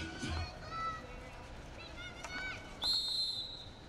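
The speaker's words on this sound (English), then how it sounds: "Long blow of the umpire's whistle there." A long umpire's whistle blast at a Beeston versus University of Birmingham field hockey match, a piercing sustained tone rising clearly above crowd noise and distant commentary late in the moment.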